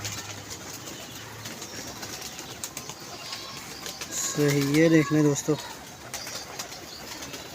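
A Golden Prince pigeon at a pigeon club gives one short warbling coo midway through, close by, while someone talks over soft background noise.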